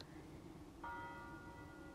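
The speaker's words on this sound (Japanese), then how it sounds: "チャイムが鳴ってる" A chime rings in the mobile game NieR Re[in]carnation: sustained, bell-like tones start just under a second in and hold steadily over a low background hum, with no talking.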